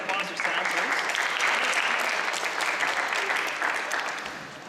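Audience applause following a quick startup pitch at a startathon event, steady dense clapping sustained for several seconds before tapering off near the end.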